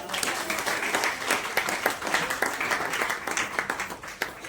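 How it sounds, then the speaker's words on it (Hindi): An audience at a motivational growth training session applauds continuously, with dense, lively clapping that fills the whole stretch at steady volume. "पर अपने लिए ताली बजाइए।"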